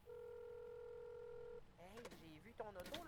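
Steady DTMF keypad tones from dialing a phone number in the Mon Bazou video game, a long held tone followed by someone talking over fainter beeps.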